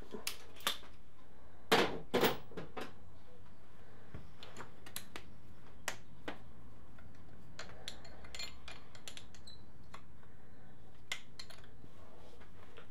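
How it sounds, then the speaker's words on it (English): A ratchet loosens the starter motor bolts on a Suzuki Bandit motorcycle during gearbox work, giving sparse, quiet clicks scattered through a hushed workshop with no talking. "One of them I can get undone with a ratchet"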